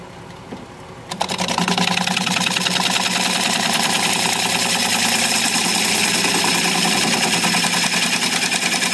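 A bench grinder spins up and runs steadily, sharpening a wood turning tool. The motor's loud, even whine carries a fine rhythmic grinding texture that holds without a break.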